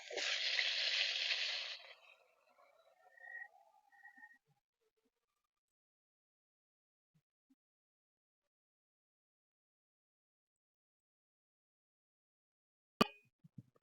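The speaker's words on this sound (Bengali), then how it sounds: "ফুলকপিটা ভালো করে নাড়িয়ে আমি ভেজে নিয়েছি" Cauliflower frying in a pan: a short burst of hissing sizzle lasts about two seconds, then fades into near silence with a few faint clicks later on.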